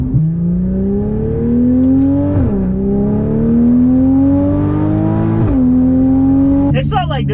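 A track-modified Porsche Cayman R engine pulls hard through the gears, its rising drone broken by quick shifts, loud and close from inside the cabin, with a brief burst of wind noise at the end.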